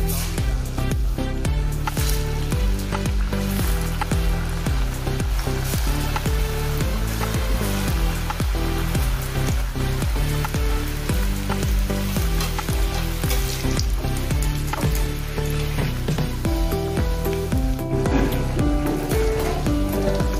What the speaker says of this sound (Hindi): तेल अच्छे से गर्म हो गया है, इसमें डालेंगे अभी